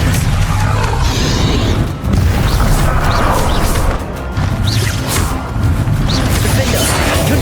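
Spell blasts and explosions from the Hogwarts Legacy video game boom and crash one after another, loud and dense with repeated impacts and whooshes and hardly any pause.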